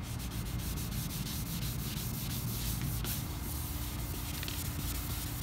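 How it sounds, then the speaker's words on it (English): A car headlight lens being scrubbed with WD-40, a steady close rasping rub that continues without a break and with no voices. "the longer you scrub it, the cleaner it gets"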